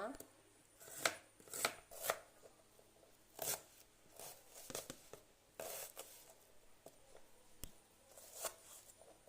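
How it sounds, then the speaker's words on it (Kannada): An onion is chopped on a cutting board with a knife, sharp irregular taps in quick bursts and short pauses, close and fairly quiet. "ಈಗ ಈರುಳ್ಳಿ ಕಟ್ ಮಾಡುವ."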